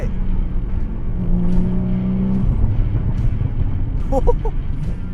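Engine of a white Porsche Boxster 981 with a V6, a steady loud rumble with a sustained revving tone that steps down partway through, heard from inside the car with a voice talking over it.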